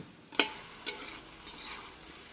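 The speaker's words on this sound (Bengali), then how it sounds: "মিনিট দশেক সময় নিয়ে চিকেনটাকে এইভাবেই মশলা ছাড়াই কষিয়ে নেব" Chicken sautés with salt and turmeric in a pan, a soft steady sizzle broken by three or four sharp scrapes of a utensil stirring against the metal at irregular intervals.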